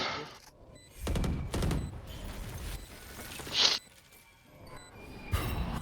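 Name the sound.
gunfire shooting a wall, from a video game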